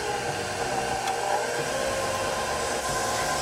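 A stand mixer fitted with a paddle instead of a dough hook works bread dough for a cheddar cheese loaf, making a steady, loud motor whir with a faint rhythmic churning underneath and no voices.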